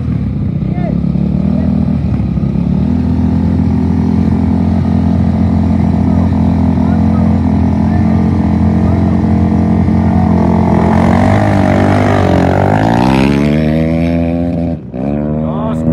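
Quad ATVs idle and rev loudly at the start of the Cabo 250 off-road race, a steady droning engine roar that swells into rising acceleration before cutting off, with an announcer talking over the noise.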